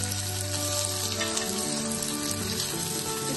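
Onions frying in oil with dried red chillies and curry leaves for beetroot vepudu, a continuous, dense sizzle that stays steady and close throughout without speech.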